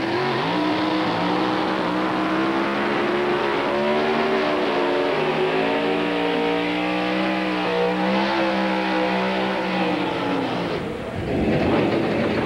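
Pro Stock drag racing cars launching at a 1998 NHRA national event, a loud sustained engine roar with rising, shifting pitch as they accelerate down the strip, with a brief dip near the end.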